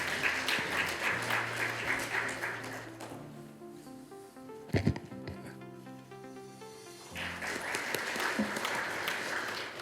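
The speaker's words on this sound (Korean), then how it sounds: "큰 박수로 환영해 주시기 바랍니다." Audience applause at the opening ceremony of an academic conference, welcoming a guest speaker, starts loud and dense, drops into a quieter stretch with scattered claps and a few sharp knocks, then swells again to full clapping near the end.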